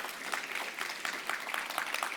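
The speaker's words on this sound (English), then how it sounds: "Please give them a round of applause for participating." Audience applause at a food summit in Atlanta, a steady wash of many hands clapping, fairly faint and distant, lasting about two seconds.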